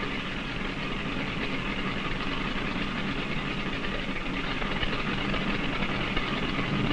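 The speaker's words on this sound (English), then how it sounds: "The four engines just idle while the plane glides along and circles to the head of the runway." Four engines of a Consolidated PB-2Y flying boat idle together in a steady, continuous drone with a broad low rumble, holding an even level throughout without talk.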